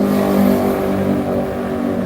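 A motorcycle passing on a street near a tailgating area before a game in Austin, a loud sustained engine drone with a steady harmonic whine that swells slightly then eases as it moves along.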